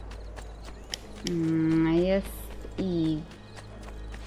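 A horse in the video game Assassin's Creed II gives two loud, drawn-out calls close by, separated by a short pause, over steady game ambience, with brief speech at the start.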